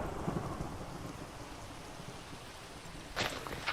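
Thunderstorm in a video game, with rain hissing steadily and a low rumble of thunder. A sharper crack of thunder swells near the end, all fairly quiet and with no voices.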